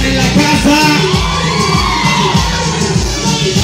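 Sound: women in the crowd shouting at a quinceañera party

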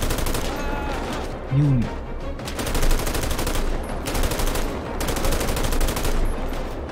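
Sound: gunfire in GTA 5 LSPDFR, video game

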